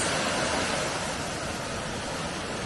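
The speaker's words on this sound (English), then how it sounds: "Some beautiful waterfalls this morning." Steady, full roar of falling water, a dense continuous rush that holds evenly throughout with no pauses.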